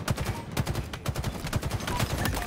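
Repeated grenade blasts and gunfire from a Halo multiplayer match, with sharp bursts recurring in a rapid, uneven rhythm throughout, loud and dense with no talk over them.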